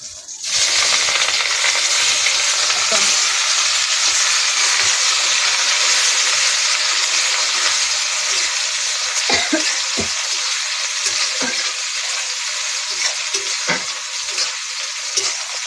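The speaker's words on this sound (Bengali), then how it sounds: "দিয়ে দেবো এবার পেঁয়াজ" Chopped onion and bay leaf frying in oil in a kadai alongside already-browned potatoes, a loud, steady sizzle with occasional stirring clicks and scrapes throughout.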